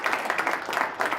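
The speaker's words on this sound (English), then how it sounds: "go ahead, give them a round of applause" Brief applause breaks out for staff at a student life awards banquet, quick, fairly faint clapping from the audience lasting only a moment.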